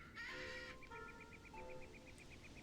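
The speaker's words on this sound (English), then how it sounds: "I love those birds." Birds call in the Tales of Zestiria video game, a harsh squawk followed by a rapid series of repeated chattering calls, quiet and alone.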